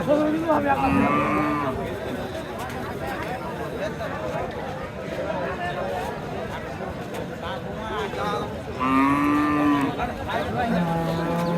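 Cows and calves low repeatedly at the Sonaichandi livestock market in Chapai district, long moos near the start and again toward the end over a busy crowd of chatter and murmuring voices.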